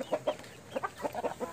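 Roosters in a breeding yard, out for a leisure stroll, cluck in short, close, repeated bursts with brief pauses between them over a steady background hiss.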